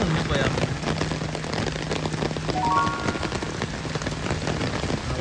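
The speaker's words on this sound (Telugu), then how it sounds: "వర్షం మీకు వినిపిస్తూ ఉండిండొచ్చు." Heavy monsoon rain pours in a Mumbai housing township, a dense continuous patter on surfaces with a low hum running underneath and a faint tonal whistle in the middle.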